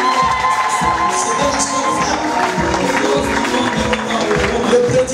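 Church congregation clapping and cheering with some shouts, a steady, dense crowd noise filling the room throughout, with a voice speaking over it briefly.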